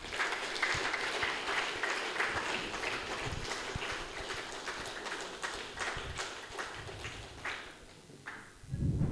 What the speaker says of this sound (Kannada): ಬ್ರಹ್ಮರ್ಷಿ ಸುಭಾಷ್ ಪತ್ರಿಜಿಯವರ ಚೈತನ್ಯಕ್ಕೆ ಒಂದು ಸಾರಿ ಜೋರಾಗಿ ಚಪ್ಪಾಳೆ